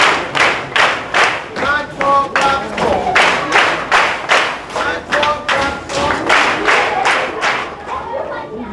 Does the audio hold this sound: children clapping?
yes